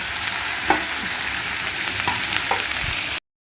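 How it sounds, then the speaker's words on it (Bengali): Potato, papaya and other vegetables cook in a covered pan with a loud, continuous frying sizzle, broken by a few light stirring taps, close up with no voices. "এইভাবেই সব এক এক করে সবজি পড়বে আর ঢেকে ঢেকে রান্না হবে"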